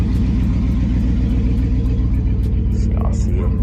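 A car engine idles steadily up close, a deep, even rumble with a regular low throb that holds constant for a few seconds.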